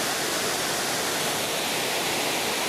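A creek flows steadily with a dense, broad rushing hiss of water, loud and close, continuous without pauses and with no voices.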